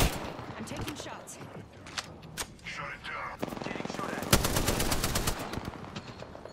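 Rapid automatic gunfire from the video game Apex Legends, bursts of shots rattling in quick runs that grow louder and denser toward the end, with player voices talking over the action.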